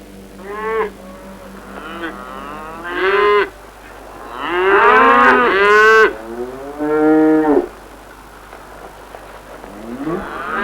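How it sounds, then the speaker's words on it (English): Humped cattle of Fulani herders in West Africa low repeatedly, several long, drawn-out calls overlapping and rising in loudness, close by with no talk. "These humped cattle mark the country of the Fulani, or Pearl people, the great cattle breeders and herders of West Africa."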